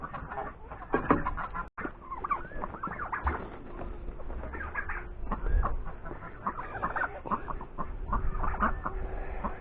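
Several chickens cluck and coo close by in a homestead coop as the birds are let out, with steady overlapping calls and rustling throughout.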